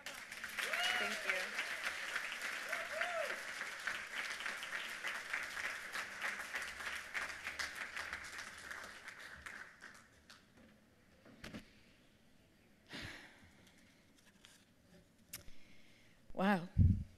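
At a women's conference, an audience applauds an award recipient with sustained clapping for about ten seconds, which dies away into quieter room sound and some talk.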